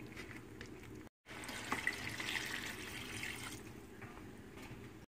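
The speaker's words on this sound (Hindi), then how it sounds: "अब हम इसमें पानी लगाएंगे।" Water pours from a container into a pot of chicken nihari masala, a continuous splashing, gurgling stream lasting several seconds between quiet pauses.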